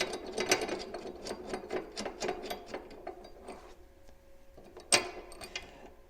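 A gooseneck wrench ratchets on a snowplow mount bolt during a 72-inch KFI ProPoly plow install on a 2024 Polaris Ranger 1500XD, giving rapid clicking strokes in bursts, then a pause and a sharper metallic clack.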